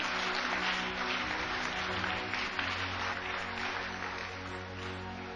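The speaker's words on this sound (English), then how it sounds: "Clap your hands for Jesus." A church congregation claps hands during a lively worship service, a loud, continuous wash of clapping blended with music and steady low tones throughout.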